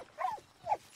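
Two short, sharp yelps from a dog in the video game Modern Warfare 2, a pair of brief cries about half a second apart, moderately loud over faint game background.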